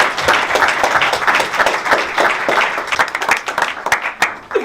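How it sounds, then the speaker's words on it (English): A church audience breaks into sustained, dense applause after being invited to clap, loud and close, with sharp individual claps standing out over the crowd before it thins toward the end. "You guys can clap for that."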